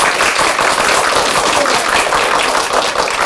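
A student audience gives loud, sustained applause as a score for a classmates' old-clothes makeover show, an unbroken dense wash of clapping that holds steady throughout with no voices over it.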